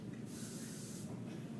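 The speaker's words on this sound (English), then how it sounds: "The problem with this is that when you spray," An aerosol insect spray can against mosquitoes fires one continuous hissing burst lasting under a second, close and steady, with a faint low background hum.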